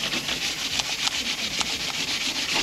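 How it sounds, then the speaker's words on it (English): Sandpaper rubs by hand over a low, small area of a Chevy Trailblazer body panel, following the curve of the body. The scraping is close and continuous, with faint repeating strokes and no talk. "I wouldn't normally hand sand, but this is such a low and small area that it's just gonna be easier to do it this way"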